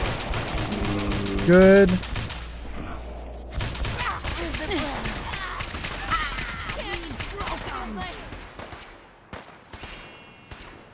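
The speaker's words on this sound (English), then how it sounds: "Why do I still hear gunfire if we're done?" Gunfire in Fallout 4: sharp rapid bursts of automatic fire and single shots crackle close by, thinning out toward the end, while a voice speaks briefly over the combat.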